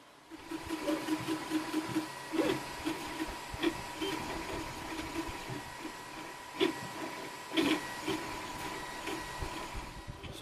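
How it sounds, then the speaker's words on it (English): A FlashForge Creator X 3D printer running up close, giving a constant motor whine with rhythmic stepper buzzes and occasional louder clicks and bursts as the head moves, no speech. "Here we have the new FlashForge Creator X."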